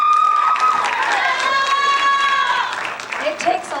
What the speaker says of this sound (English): Give Marcelo another round of applause.